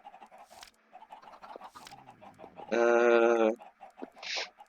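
Chickens cluck in a video game, with repeated short clucks and a louder sustained squawk midway, heard close over a busy background of game sounds.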